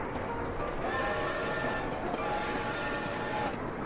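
Train running in the video game Sweet Transit, a steady rolling rumble with faint clicking and a thin metallic whine layered over it, continuous and fairly loud for the whole stretch, with no voices.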